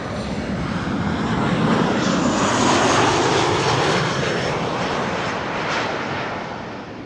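A Royal Air Maroc airliner arriving from Nador at Amsterdam Schiphol roars past, its engine noise swelling and fading as a loud, broad rumble and whine with no voices.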